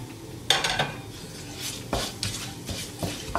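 Fennel seeds frying in oil in a pan as a veg kuruma base starts, with a few sharp bursts of a spoon stirring and scraping against the metal over a low, faint sizzle.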